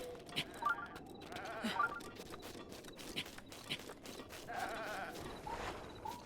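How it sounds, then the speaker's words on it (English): Goats in The Legend of Zelda: Breath of the Wild let out several wavering bleats at close range, spaced irregularly over about six seconds, with soft footstep-like clicks in between. "Ah, there's so many goats."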